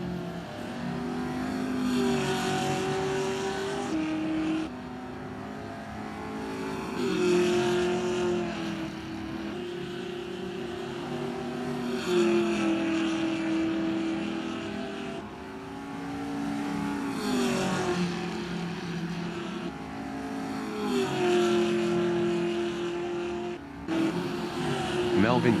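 Open-wheeler race cars howl around a circuit, engines rising and falling as they accelerate and shift, with a commentator talking over the racing.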